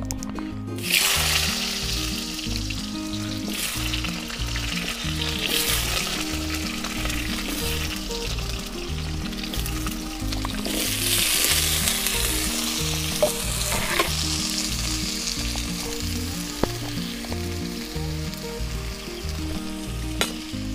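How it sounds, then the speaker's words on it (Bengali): Potatoes frying in hot oil in a pan give off a strong, continuous sizzle with bubbling crackle and a few stirring scrapes, close-up and steady throughout, with no one talking. "আলু কটা সুন্দর করে ভেজে নেব। দিয়ে দেবো আলু।"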